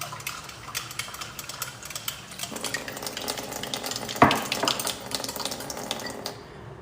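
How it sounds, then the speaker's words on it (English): Water being stirred into a slurry for hot and sour soup, with steady scraping and swirling over a sizzling background, light kitchen clatter and one sharper clink partway through. "you just take some water and you stir the water in, and it will set over time"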